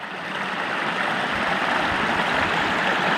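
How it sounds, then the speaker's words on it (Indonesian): A river at the meeting point of several village tributaries rushes steadily, a dense broadband wash of flowing water near and loud, with no pauses throughout. "di mana sungai itu merupakan titik temunya beberapa anak sungai dari tiap-tiap desa"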